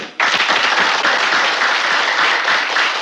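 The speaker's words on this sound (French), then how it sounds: "alors des applaudissements d'abord" Dense, steady applause recorded as a sound effect for a film's costume scene, starting abruptly after a brief pause and holding loud and even throughout.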